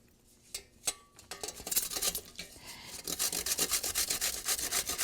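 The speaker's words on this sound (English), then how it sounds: "So I'll start with zucchini, to grate zucchini." Zucchini is rubbed against a kitchen grater in a run of quick, rasping scrapes, sparse at first and then steady and fairly close, with no talking.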